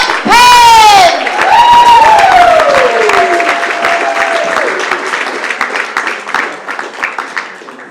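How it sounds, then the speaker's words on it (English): A comedy club audience at Gotham Comedy Club cheers Matt Penn with loud rising whoops, then settles into steady clapping that thins and fades over several seconds. "clap it up for Matt Penn!"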